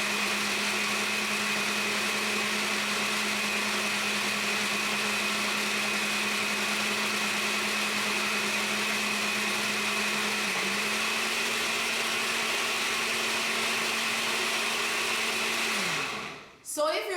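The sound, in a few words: blender grinding split peas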